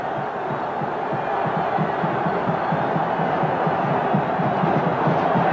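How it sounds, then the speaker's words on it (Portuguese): Palmeiras football fans celebrating a goal against São Paulo at Morumbi stadium, a loud sustained crowd roar with rhythmic chanting pulses, steady throughout. "A torcida do Palmeiras está comemorando."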